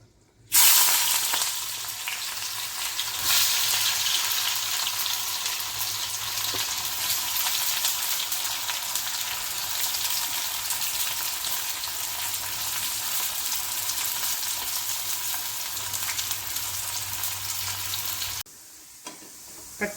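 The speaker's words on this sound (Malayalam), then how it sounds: "നമുക്ക് സവാള വറുത്തെടുക്കാം ഞാനിവിടെ സൺഫ്ലവർ ഓയിലാണ് എടുത്തിരിക്കുന്നത്" Onions deep fry in sunflower oil for chicken biryani, a loud, continuous crackling sizzle with occasional stirring that runs close and unbroken before cutting off abruptly near the end; no talking.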